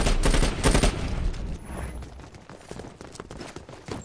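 Rapid gunfire in the video game Dirty Bomb, aimed at a turret during a competitive match, loud bursts up front that thin into scattered shots and clatter.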